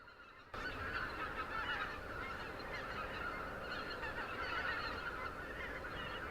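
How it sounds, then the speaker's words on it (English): A flock of Canada geese honks as it flies overhead at night, many overlapping calls starting abruptly and continuing loud and busy, fairly close, with no talking. "the Canadian geese flying through"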